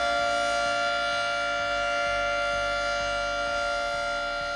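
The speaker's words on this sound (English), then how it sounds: "Next is 2T22 siren." A 2T22 civil defense siren wails in a loud, steady sustained tone with rich stacked harmonics, droning continuously and alone with no voices.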